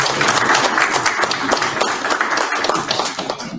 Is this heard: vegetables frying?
no